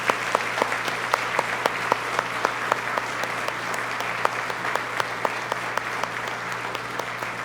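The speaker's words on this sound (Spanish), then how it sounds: "yo quiero que le demos un gran aplauso a estos amados hermanos" Church congregation claps together, a steady, fairly loud round of applause with a few sharp individual claps standing out, continuing throughout.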